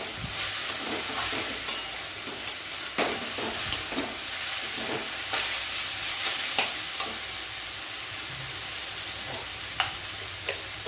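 Leafy greens fry in a pan under a steady sizzle while a utensil stirs them, producing repeated scraping clicks at irregular intervals, close and moderately loud.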